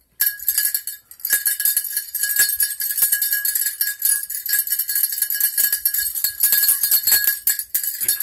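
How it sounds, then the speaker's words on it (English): Small jingle bells ring in a steady, continuous bright tinkling, close and fairly loud, with no voices. "Got some jingle bells going on here."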